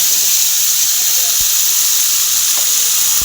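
Ground paste of cashews, melon seeds and poppy seeds going into a hot pan of oil with cardamom and cinnamon, giving a steady close sizzling hiss with faint soft clinks.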